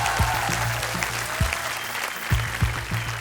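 A studio audience at a Hindi game show breaks into steady applause, dense clapping filling the room with a few louder claps standing out near the front.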